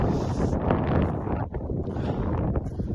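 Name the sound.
wind blowing at a wild camp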